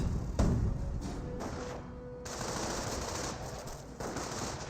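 Strafing-run gunfire in the Company of Heroes 1 strategy game rattles as dense rapid bursts over a noisy battle backdrop, with a few abrupt breaks between volleys.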